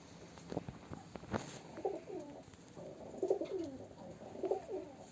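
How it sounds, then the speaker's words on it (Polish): Black-headed pigeons (Polish "murzynki" breed) cooing softly in repeated low, throaty phrases, several calls spread across the clip against a faint steady background hiss. "Niebrzydkie gołębiaczki, czyściutkie, nie siedzą na ogonach."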